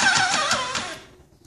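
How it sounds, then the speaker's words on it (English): Hissing from the drain valve or prime spray valve of a Titan Wagner airless paint sprayer, a steady broadband hiss with a few pulsing surges that fades out over about a second and a half. "If you hear a hissing noise coming from around here and it'll sound something like this."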